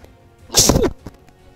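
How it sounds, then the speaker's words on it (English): A single sharp sneeze bursts out close and loud from a person mid-commentary on a tower defense game, lasting under half a second before quiet returns. "Excuse me, sorry, I sneezed."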